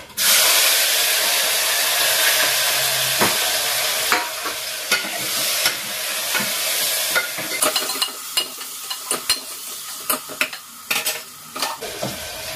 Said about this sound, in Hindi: टमाटर के साथ मसाले भून देती हूँ